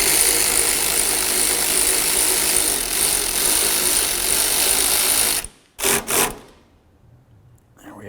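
A ratchet snugs a bolt on the AC line bracket during a front engine mount job on a 2004-2006 Scion xB, a steady dense mechanical clatter running for several seconds, then a few short clicks before it stops.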